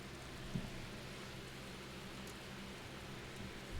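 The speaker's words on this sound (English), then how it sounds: "It just kind of rains off and on in this game." Steady rainfall from the Disco Elysium video game soundscape, a soft even hiss of drops on surfaces, continuous and fairly quiet, with no voices.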